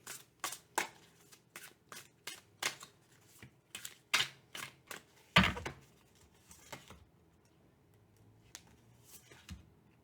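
Tarot cards are shuffled in a long run of crisp riffling bursts, close and fairly quiet, with one louder riffle partway through and no one talking.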